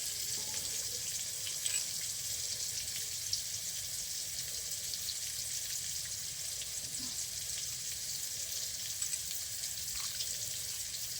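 Water pours onto cooled, boiled soybeans in a pot, a steady broad hiss and splash running evenly throughout, close and moderately loud, with no talking.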